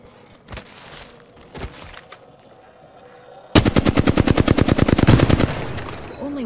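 Automatic gunfire in Apex Legends aimed at the player: a few isolated shots at first, then a loud, rapid burst of close machine-gun fire rattling steadily for about two seconds before it stops.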